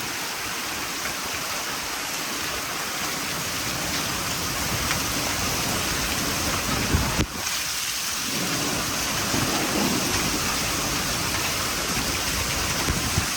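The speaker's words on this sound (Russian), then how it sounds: "У нас и град пошел." Heavy, continuous downpour with a dense roar of hail and rain pelting surfaces nearby in a vegetable garden, steady throughout with one brief sharp knock midway.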